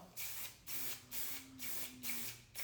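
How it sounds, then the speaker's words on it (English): Aloxi Bombshell hairspray hisses from an aerosol can onto teased hair in five quick, evenly spaced bursts with short gaps between them, close and clear with no talking. "I'm now going to spray my Aloxi Bombshell"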